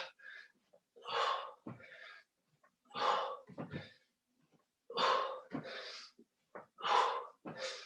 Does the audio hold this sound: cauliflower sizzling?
no